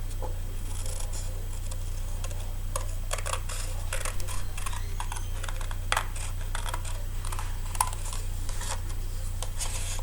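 Scissors cutting out a paper bird for a Christmas toile craft, heard as rapid, crisp snipping clicks close by over a constant low hum.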